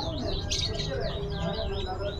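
Songbirds at a bird shop, including Nias mynas, chirp and whistle continuously in a dense, loud chorus of repeated sweeping calls, with people talking underneath.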